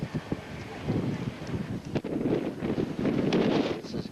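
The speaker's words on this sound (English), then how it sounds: "You can probably hear the wind blowing." Strong wind buffets the microphone at a windy elevated spot on a Mediterranean cruise excursion, a rough, continuous rumbling roar with gusty surges and faint voices underneath.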